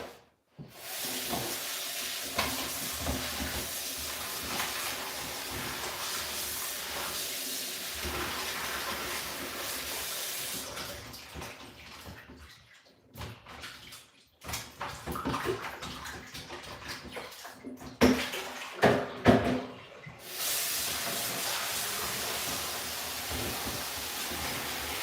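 Ginger is washed under a running tap, a steady hissing stream of water that continues for most of the time. Brief interruptions and a few louder splashy surges break the flow.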